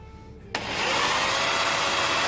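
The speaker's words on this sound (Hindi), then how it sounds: "ये हमने जो हैमर मोड पे लगा रखा था इसे हटा के हम सिंपल रोटरी पे कर देंगे, क्योंकि हमें इस वुड में हैमरिंग की ज़रूरत नहीं है।" A Black & Decker KR554RE drill in plain rotary mode spins up abruptly and bores into wood with a steady, close, high whine that holds for a couple of seconds.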